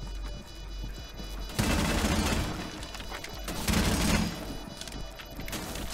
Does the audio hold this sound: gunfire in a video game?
yes